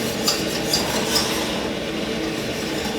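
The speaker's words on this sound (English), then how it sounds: "You want to make sure you keep stirring it as you're doing that." A butter and flour roux being stirred in a pan, with a steady scraping, swirling texture of utensil against metal and a few faint light clinks near the start, close and continuous with no talk.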